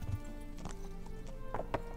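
Horse hooves clip-clop steadily under a rider in the medieval role-playing game Kingdom Come Deliverance, a close, even trot with a brief whinny-like tone partway through.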